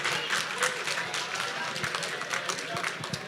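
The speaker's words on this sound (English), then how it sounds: "Give yourselves a round of applause." An audience at a film premiere event claps in a steady, moderately loud burst of applause, with faint voices mixed in.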